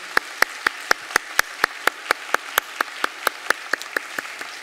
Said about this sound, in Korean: 우리 사모님 한번 자리에서 일어나 주시면 우리 박수로 격려하겠습니다